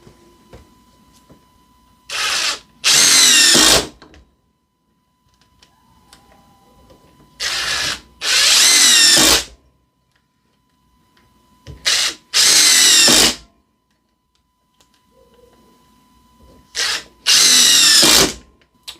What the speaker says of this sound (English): So we'll start right away with the Ryobi. We're going to drive those 4 screws into it,